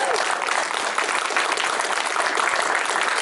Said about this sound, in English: I want some applause.